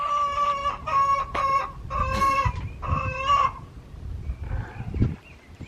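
Chickens cluck and crow in short, loud bursts near a homestead chicken coop, several calls in quick succession before fading to quieter clucks.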